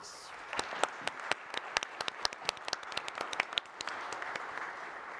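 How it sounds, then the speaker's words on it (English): Audience applause at The Hatch 2021 event, made up of many distinct sharp claps that build quickly into a lively, uneven patter and carry on throughout, moderately near. "Round of applause, please"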